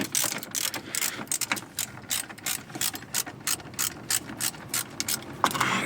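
A ratchet winds a bolt out on a Mk2 Supra build, quick bursts of close metallic clicking in an uneven rhythm of short runs and pauses.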